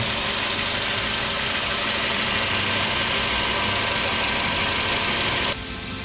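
The 2.0 LPLi engine of a 2016 Renault Samsung SM5 Nova idles with a steady, close mechanical hum and faint knocking, cutting off near the end with no talking.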